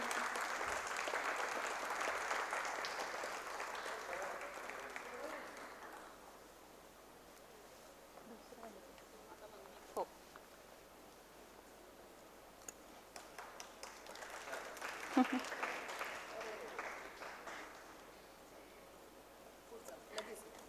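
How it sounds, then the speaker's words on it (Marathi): An audience at a dance festival award ceremony claps in two swelling bursts of applause, moderately distant, separated by a quieter stretch of room noise. "जोरदार टाळ्या झाल्या पाहिजे सृष्टीसाठी."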